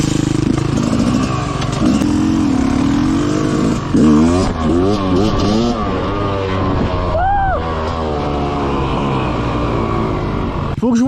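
An enduro motorcycle engine works hard on a rocky climb. It revs up and down in rising and falling surges close to the rider, and a voice cuts in briefly over the loud engine.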